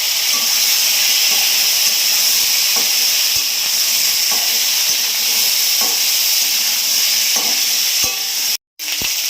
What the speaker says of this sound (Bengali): এবার এই মেটে আলু আর আলু দিয়ে দিচ্ছি।